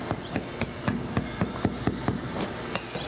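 Hammer blows on a part of CN 1392, a steam locomotive, at a railway museum: about a dozen sharp metallic strikes in a steady, fairly quick rhythm, close and distinct, with no speech.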